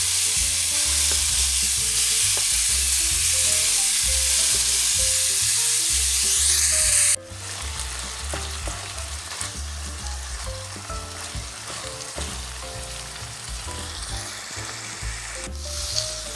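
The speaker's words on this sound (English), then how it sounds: "Now you want to break down your ground beef. You're going to make sure it's in small pieces, and we're going to cook it until it's all brown." Ground beef browns in a pan, broken into small pieces, with a steady loud sizzle and crackle throughout, plus light scraping and stirring, with no voices.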